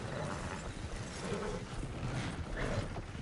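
Horse hooves clip-clop on a road in the Red Dead Online video game, a quiet, muffled rhythmic stepping beneath a low background hum.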